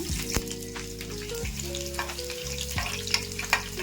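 Mustard seeds and garlic fry in hot oil for a tomato chutney tempering, giving a close, busy sizzle with sharp crackles and pops. A low tonal hum sits underneath.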